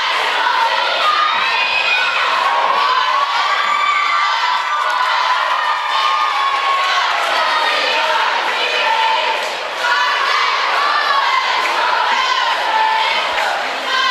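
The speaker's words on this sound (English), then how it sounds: "And we have a huge crowd here tonight at Doniphan High School." A large crowd cheers and shouts at a high school homecoming football game at night, a dense continuous roar of voices and whoops staying loud and close for the whole stretch.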